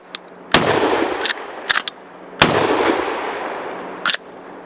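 Dominion Arms 1887 lever-action shotgun firing outdoors at a range: two loud, sharp blasts with decaying tails, interspersed with metallic clacks of the lever cycling, the action catching briefly.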